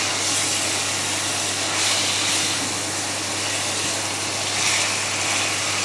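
Chicken pieces fry with onions in a pan for chicken rezala, giving a steady, close, dense sizzling hiss that holds evenly throughout over a faint low hum, with no voices.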